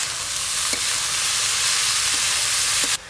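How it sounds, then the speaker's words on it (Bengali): Potatoes and boiled banana flower fry together in hot oil for a village-style Bengali banana flower curry, a steady, loud, close sizzle with faint stirring taps, and no voices. "তেলের মধ্যে আলুগুলো দিয়ে একদম হালকা করে নেড়ে নিয়েছি। এবার সেদ্ধ করে রাখা মোচাগুলো দিয়ে একসঙ্গে ভেজে"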